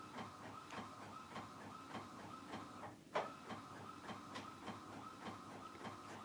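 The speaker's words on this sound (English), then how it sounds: "you can hear the image is printing out on my home printer." A printer runs steadily with a whirring, rhythmic mechanical hum and repeated faint clicks, one sharper clunk partway through, fairly quiet throughout.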